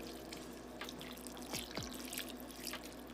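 Chicken broth pours into a bowl of cornbread dressing with cooked-down onion, bell pepper and celery, a soft continuous trickle and drip close by, with a couple of brief splashy gurgles partway through.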